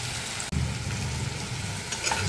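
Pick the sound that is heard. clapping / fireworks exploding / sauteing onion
sauteing onion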